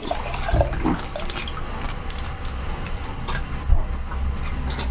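Milk poured from a half-litre carton into a pot for making junnu, a steady liquid splashing and trickling that runs for the whole stretch, close and fairly loud, with no talking.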